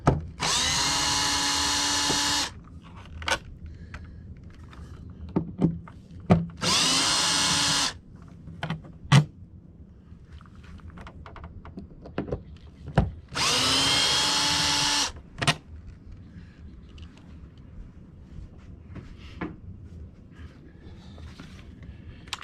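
Power drill backing Torx screws out of a boat's bow panel, with four loud bursts of whirring spaced a few seconds apart and quiet handling clatter and clicks between them.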